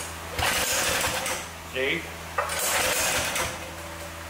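A small engine's recoil cord is yanked twice, each pull a short rattling, whirring burst that dies away without the motor catching; someone speaks briefly between the pulls.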